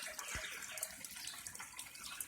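Water from a crawfish trap setup pushes out through a shut-off valve and runs into a drain, a steady close rushing splash with small gurgles throughout.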